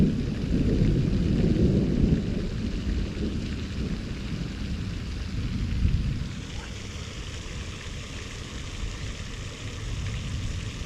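Rain falls steadily during a thunderstorm by a fishing spot, with a deep low rumble of thunder swelling in the first six seconds before easing into a continuous hiss of rainfall.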